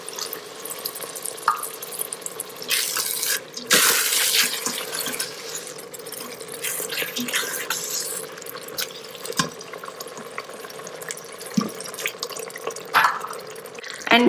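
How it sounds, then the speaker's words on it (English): Half a cup of water poured into an Instant Pot of cooked minced lamb and tomatoes, a short splashing pour followed by sizzling, stirring and occasional clinks, close and busy. "For that, I'm going to add half a cup of water."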